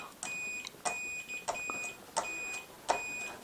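Short electronic beeps from a digital multimeter set to continuity on the ohm scale, used for checking RV wiring: five brief high-pitched tones at roughly even intervals, moderately loud and clear, with no talking.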